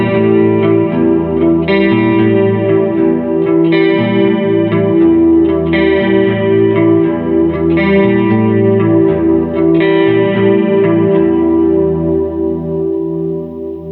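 Intro riff played on electric guitar through a Walrus Audio Fundamental chorus and reverb, repeating arpeggiated phrases with a shimmering, wavering chorus and a slightly gritty edge, loud and steady with no talk.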